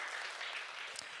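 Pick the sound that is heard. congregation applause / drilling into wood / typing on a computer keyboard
congregation applause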